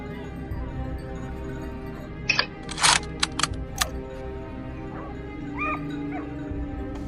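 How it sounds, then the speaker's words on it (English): Hunting dogs yip and bark in a few quick, sharp bursts, somewhat distant, driving wild boar uphill, over a low steady background rumble. "As the barking grew louder"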